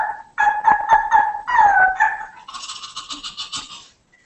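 A person mimics a small puppy barking with a string of high yips and whiny barks, fairly loud and close, heard alone.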